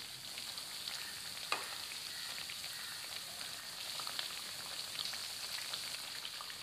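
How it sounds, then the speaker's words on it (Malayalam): Vada frying in hot oil, a dense, even hiss and crackle like light rain that carries on without pause, close and moderately loud, with one brief clink near the start. "ഇത് നല്ലപോലെ ബ്രൗൺ നിറമാവുന്നത് വരെ ഫ്രൈ ചെയ്തെടുക്കണം."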